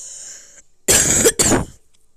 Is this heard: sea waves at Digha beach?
no